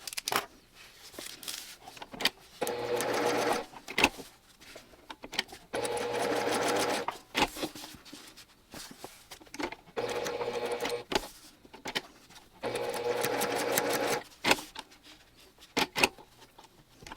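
A sewing machine stitches a magnet into a fabric sunglasses case with interfacing, running in several distinct bursts of rapid mechanical whirring separated by short pauses and faint handling clicks, close and clear with no talking.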